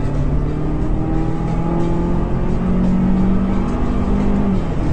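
Car engine spooling up to about 5,500 RPM, heard from the trunk area inside the car: a loud, steady engine drone with rising harmonic tones throughout, no talking.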